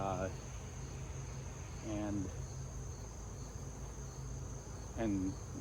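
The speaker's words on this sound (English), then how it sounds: "There's plenty of bees going in and out." A steady, continuous honeybee buzzing around a hive hums throughout at low volume, with a few brief chirping notes rising above the drone.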